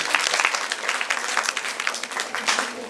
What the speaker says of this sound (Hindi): ताली बजाई आप इनके लिए